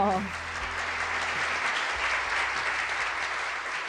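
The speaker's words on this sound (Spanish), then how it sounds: "les pido un fuerte aplauso para Martín" An audience at the Vegan Fest 2021 gives a speaker a warm round of applause, a continuous wash of many hands clapping at moderate volume for the whole stretch.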